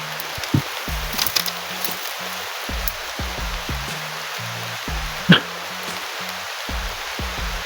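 Steady rain patters down on a mountain during a sun shower, a soft continuous hiss with a few louder drops, while low droning tones run underneath.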